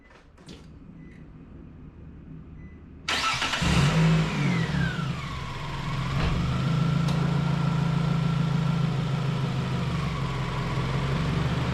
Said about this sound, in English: We'll just make sure the car starts up.